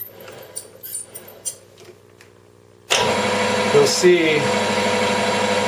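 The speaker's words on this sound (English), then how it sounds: "if you turn on the lathe" A metal lathe switches on abruptly and runs steadily with a broad whirring hum while a piston casting spins in the chuck, with a brief voice before startup.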